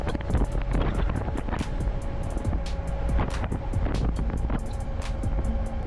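Strong wind buffets a moving microphone while cycling downhill, with continuous roaring gusts and rumble, no voices.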